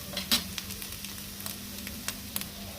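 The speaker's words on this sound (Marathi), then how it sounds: "आता खोबरं परतून झालेलं आहे" Freshly grated coconut roasting in a pan, a soft steady sizzle with scattered clicks and scrapes of stirring, one sharper scrape early on, fairly quiet and close with no voices.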